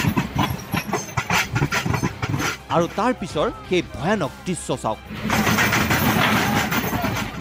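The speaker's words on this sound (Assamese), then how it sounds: "টপ টপকৈ জ্বলি থকা জুইৰ ওপৰৰে পাৰ হৈ গৈছে এই যাত্ৰীবাহী ৰেলখন।" A passenger train rolls over rail tracks set on fire by protesters during a bandh in Assam, its engine rumble and hiss running steadily beneath a news narrator's voice, swelling louder near the end.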